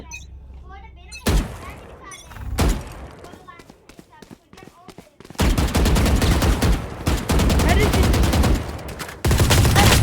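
Gunfire in the video game Valorant, with loud dense bursts of shots filling the second half, preceded by a few sharp single impacts, while a player talks over the action.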